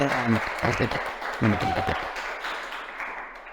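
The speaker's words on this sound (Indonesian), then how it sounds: "Tepuk tangan." Applause from an audience at an alumni talk session, a steady patter of clapping running beneath a man's speech and continuing alone as it gradually fades.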